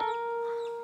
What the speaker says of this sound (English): that sounded like a hen